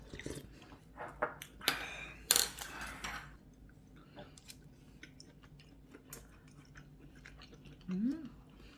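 Close-up chewing and biting of a Korean home meal made from leftover holiday dishes, with soft crunches and mouth sounds early on, quieter chewing later and a voice speaking briefly.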